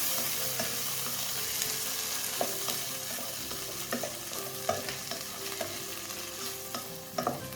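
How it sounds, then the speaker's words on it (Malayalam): Red cow peas (vanpayar) thoran is stirred in a pan over low flame, a quick run of close scraping and tapping spatula strokes over a continuous gentle sizzle, with no voices. "ഇനി ഇതിലേക്ക് നമുക്ക് വൻപയർ ചേർത്ത് കൊടുക്കാം. എല്ലാം കൂടി ഒന്ന് മിക്സ് ചെയ്തെടുക്കാം."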